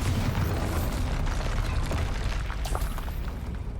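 A Bombarda blasting spell going off in Hogwarts Legacy, a sustained loud roaring explosion with crackling bursts and debris, close and continuous throughout, no speech.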